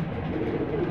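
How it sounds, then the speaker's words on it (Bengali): A male Soya Chandan pigeon at a pigeon sale gives a brief, low coo amid a dense, noisy background. "এখানে এক পিস সোয়া চন্দন কবুতর রয়েছে"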